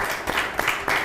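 Brief applause from a small audience, a few uneven bursts of clapping lasting about a second, close and fairly loud.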